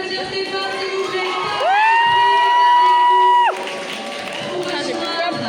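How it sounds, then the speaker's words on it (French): Convention crowd at Japan Party 2025 cheers for Stéphane, with crowd chatter and a long, high, sustained whoop rising over the noise before breaking off into general commotion. "Allez, on peut l'applaudir Stéphane, s'il vous plaît."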